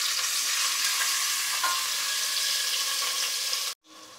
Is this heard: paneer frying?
yes